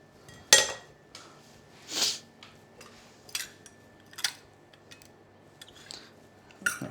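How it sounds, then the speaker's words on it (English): A large knife lops the ends off a fresh lemon on a board, giving a few sharp, close chopping taps and knocks spread apart by quiet gaps, with no talk. "We're going to lop off the ends. With the world's most excessive knife."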